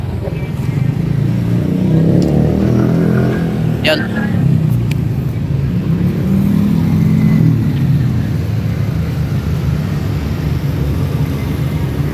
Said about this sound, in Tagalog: Maingay lang dito kasi ano, tabing highway.